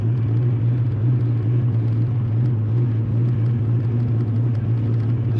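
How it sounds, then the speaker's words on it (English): A 1988 Foxbody Mustang engine idles with a steady, loud, low droning hum that holds even and unbroken throughout. "Car seems to be idling okay."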